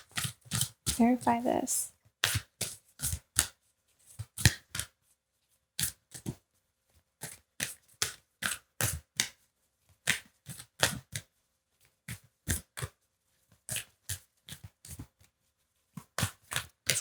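Tarot cards are shuffled by hand close up in quick riffling bursts with short pauses between them. A voice speaks briefly at the start.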